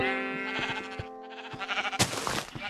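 Video game sheep bleat near a pen, with a few clear, wavering calls close by and a brief rustling burst near the end.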